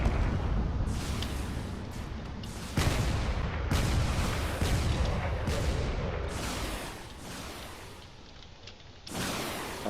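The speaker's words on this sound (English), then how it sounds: "All the cannon fire in all directions is quite a lot here." Cannon fire rages in a drone battle video game: a loud, dense, continuous barrage of booming shots and blasts firing in all directions, with sudden surges and brief dips throughout.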